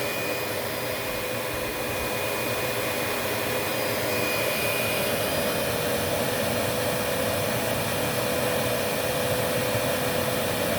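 A Proteam 1500 XP vacuum running during an airflow test, giving a loud, constant, close rushing whine of air that holds steady with no letup.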